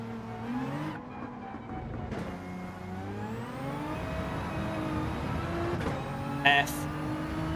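A race car engine in Gran Turismo 7 drones and shifts pitch as it revs through gears on a straight, steady and close, with a spoken voice over it and a brief sharp burst near the end.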